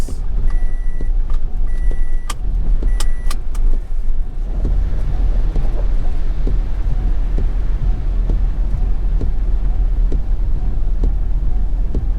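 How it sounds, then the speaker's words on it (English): Heavy road traffic rumbles steadily past in Santa Cruz, Jamaica, on a rainy market day. A dense, loud roar of car and truck engines and tyres is joined by a few sharp beeps early on, with no one speaking. "See amount of traffic, a lot of traffic are coming at Santa Cruz."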